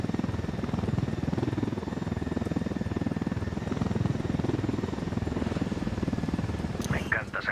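Helicopter in the shooter game Ghost Recon Wildlands, a steady rotor thump and engine drone held loud and close throughout, with brief higher rattles near the end.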